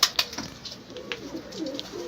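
Miro baska pigeons coo softly in a short, faint burst of low, throaty calls, with a couple of sharp clicks or taps at the start, close by and without any talk.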